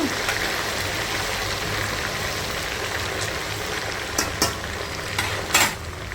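Large prawns fry in oil in a pan for pickle, a steady hiss and sizzle running throughout with a few louder stirring clatters near the end; no one speaks.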